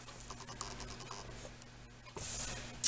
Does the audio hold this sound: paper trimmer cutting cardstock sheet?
yes